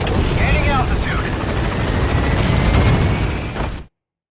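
Helicopter in Metal Gear Solid V: The Phantom Pain gaining altitude, a loud steady rotor and engine roar filling the whole stretch, with game radio voices over it before cutting off abruptly near the end.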